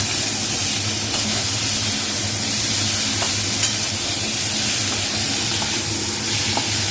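Masala with elephant foot yam and prawns fries and is stirred in a pan, a dense, loud, steady sizzle and hiss with faint occasional scrapes of the spoon, close by and without speech.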